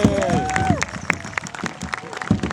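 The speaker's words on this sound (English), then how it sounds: "how about a round of applause, show him a little bit of encouragement" Crowd applause at the Stroud Powwow in 2008, scattered claps and cheers from an outdoor audience, with a voice and some whooping mixed in over the brief burst.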